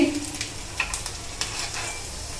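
Bread rolls fry in hot oil with a continuous close sizzle, broken by a few light clinks and scrapes of stirring, with no talking.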